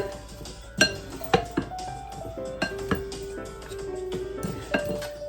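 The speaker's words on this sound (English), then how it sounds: "Okay, I'm just gonna mix everything in." Rainbow coleslaw is stirred in a bowl, with a utensil clinking and tapping against the sides in irregular bursts of sharp, ringing knocks and brief scrapes. The sounds are close and fairly loud, with no talking.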